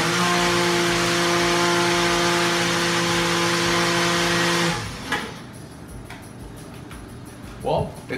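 A Ninja single-cup blender runs with a loud, steady motor whine for about five seconds, then stops, leaving quiet handling clatter and a brief voice afterward.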